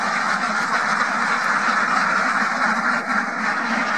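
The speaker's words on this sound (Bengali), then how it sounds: "খামারে প্রায় 500-র মতো হাঁস আছে, প্রায় 450-র মতো ডিম দেয়" A dense chorus of ducks on a farm of about 500 birds quacks continuously and close by, a steady overlapping clamour with no pauses and no talking.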